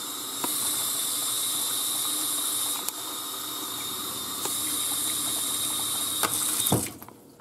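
Water runs steadily from a tap while a plastic container is rinsed, a constant hiss broken by a few sharp knocks of plastic, ending in a brief clatter as the flow stops.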